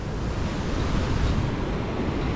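Ocean waves wash steadily along the promenade in Colombo, Sri Lanka, a continuous loud roar of surf with wind buffeting the microphone.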